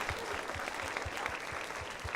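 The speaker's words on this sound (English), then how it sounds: "Please give him a big round of applause one more time." Audience applause at a youth involvement conference for a student speaker, an even, sustained patter of many hands clapping with a few louder claps standing out, no talking.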